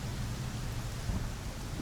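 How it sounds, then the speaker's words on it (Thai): Heavy rain falls in the video game Midnight Prowl as a dense, steady wash of noise with a low rumble beneath it. No voices are heard. "ฝนลงแล้ว ลงหนักเลย"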